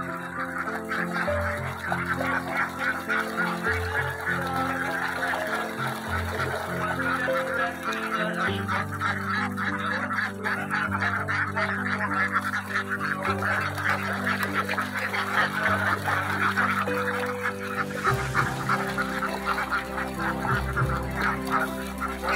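A large flock of farmed ducks honks and quacks continuously, a dense overlapping chorus at moderate distance with no talking.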